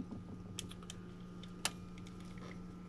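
Computer keyboard keys clicking through a microphone: a handful of faint, sharp, irregular taps with one louder strike, set over a steady low electrical hum.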